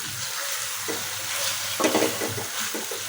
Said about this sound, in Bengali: এখন আমি ভালোভাবে কষিয়ে নেব।